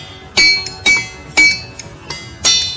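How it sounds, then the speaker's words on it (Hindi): The ringing rocks of Pennsylvania are struck with a hammer in five sharp, bright, bell-like clinks. Each strike rings briefly and then decays, the hits spaced unevenly, with no talking. "जब इन पत्थरों पर हथौड़े से चोट की जाती है तो ये सुरीली आवाज निकालने लगते हैं।"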